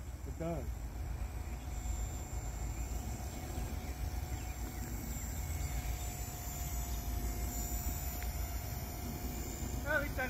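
A thin, steady high-pitched buzz from a hovering model helicopter drones on continuously over low rumbling background noise, close by.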